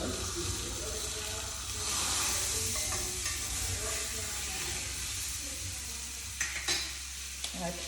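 A T-bone steak sizzles steadily in a pan and is flipped, giving a constant frying hiss with a few scraping clatters near the end.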